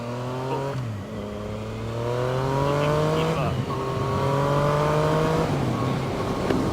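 Honda CB750 and Yamaha Virago motorcycles drag racing, two engines revving hard through repeated gear shifts with rising and dropping whine, loud and close from a rider's perspective, with wind noise underneath.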